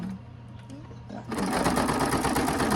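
Sewing machine stitching a backstitch on an XL self-binding potholder, a faint low hum at first, then a loud steady rapid needle rattle from about a second in, close by.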